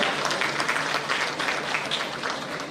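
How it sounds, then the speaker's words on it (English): An audience applauds steadily at a large EV expo in Bengaluru, Karnataka, a dense wash of many hands clapping at moderate volume throughout, with no voices standing out. "Can we all give a huge round of applause to Ms. Suman Mishra?"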